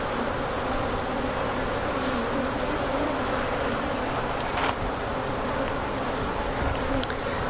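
Dense, steady buzzing of many honey bees during a beehive inspection, a close continuous drone that fills the whole stretch with no talk.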